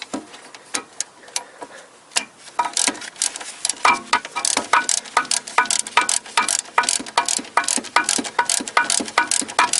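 Ratchet wrench with a 14 mm socket tightening a front strut nut on a 1992 Toyota Corolla during coil spring and strut replacement, giving a close, steady run of sharp clicking ticks throughout.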